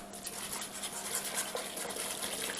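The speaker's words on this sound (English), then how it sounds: "I'm going to grab a whisk because that I think will whisk that around much better" Whisk swirling sauce in a pot, a continuous soft wet rasping and sloshing, close and steady for a couple of seconds.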